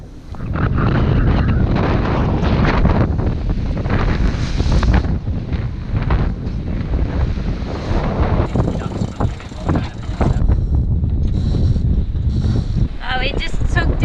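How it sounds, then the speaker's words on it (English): Strong wind at sea buffets a sailboat, a loud continuous roar of gusts against the microphone mixed with rushing waves, with no letup across the whole stretch. "It's getting a bit windy out here."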